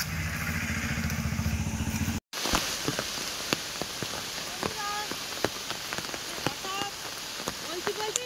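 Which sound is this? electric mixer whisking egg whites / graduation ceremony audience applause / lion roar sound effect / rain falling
rain falling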